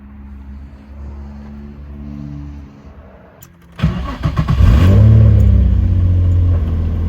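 A Nissan 350Z idles with a low hum, goes quiet, then cranks and fires up with a loud, close rev that settles into a strong, steady idle.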